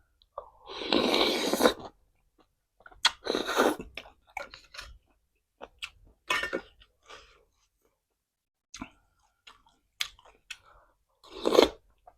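Crispy pork is chewed close to the mic in loud crunchy bursts, with longer bites early and shorter, sparser crunches later, separated by near silence.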